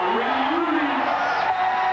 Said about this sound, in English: Lewis and Luyties, and that's an ace. Crowd loves it.